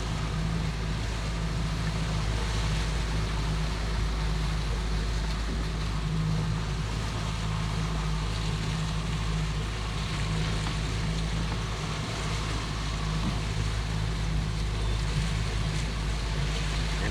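A boat rides back over choppy, wind-driven waves between Cape Romano and Marco Island, with a constant loud rumble of engine and rushing water and wind filling the whole stretch without a break.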